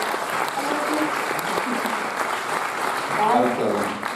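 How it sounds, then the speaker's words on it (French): Audience at a film festival screening clapping warmly, a dense sustained applause that swells toward the end while a presenter's voice carries over it. "John Mitchell, que je vous demande d'applaudir immédiatement."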